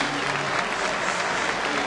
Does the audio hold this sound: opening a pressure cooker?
no